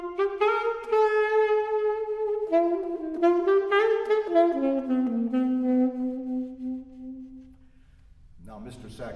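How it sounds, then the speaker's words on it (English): A saxophone plays a flowing early-1950s jazz-style phrase, a solo melodic line with sliding, bending notes, loud and close, fading near the end as a brief noise enters. "then the saxophone would sound like this"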